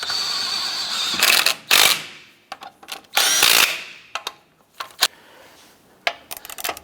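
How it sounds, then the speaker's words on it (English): Wheel lug nuts being snugged down on a Chevy Colorado with a power tool: several short, loud bursts of rattling whirring spread out and separated by pauses, with a few brief clicks between them. "Go ahead and snug down the lug nuts."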